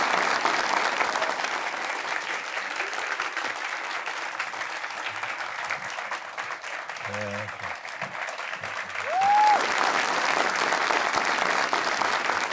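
A studio audience breaks into sustained applause as Ustad Ghulam Ali is welcomed onto the stage for an Eid-ul-Adha special show. The dense clapping continues steadily throughout and swells near the end, while a host speaks faintly underneath.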